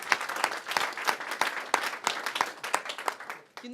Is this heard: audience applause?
yes